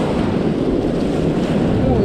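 Ocean surf surges around a surfcaster standing in the water on a Long Island beach, a loud, continuous rush of waves mixed with heavy wind buffeting the microphone.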